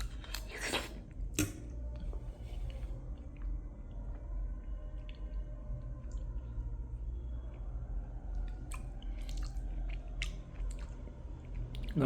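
Close, wet chewing and crunching of a meal eaten straight from the fridge, steady mouth sounds with a few sharper bites near the start, heard alone with no talk.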